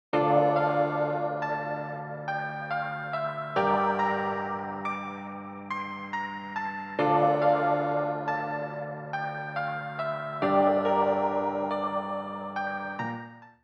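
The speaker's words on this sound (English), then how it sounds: "So now I've got the sounds from the elephant and the sound from the phone layered together," A music-production melody built from a toy's elephant sound layered with a toy phone ringtone sample, playing bright, tonal synthetic notes in a repeating phrase that loops four times, loud and clean with no talking.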